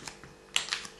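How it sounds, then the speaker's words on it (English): A very sharp kitchen knife cuts through Cornish pasty pastry around a bowl, giving a few quick, crisp scraping ticks up close, with a louder cluster of scratchy cuts in the second half. "What I do is cut around that bowl with your knife."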